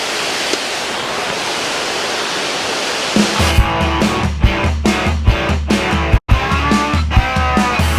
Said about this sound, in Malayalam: ആ സൈഡിലാണ് വെള്ളച്ചാട്ടം വരുന്നത് താഴെ.